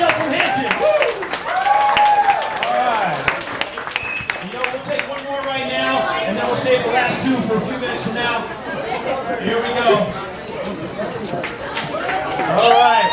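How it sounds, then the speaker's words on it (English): Crowd at a Hooters TNA Knockout for a Night event clapping and cheering for a contestant, sustained applause mixed with whoops and lively chatter, with voices talking over the noise throughout. "how about a big round of applause right here for Danielle from Hampton?"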